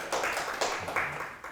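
Brief applause from a lecture audience on climate citizenship, a short scatter of hand claps, moderately loud and close, with no speech.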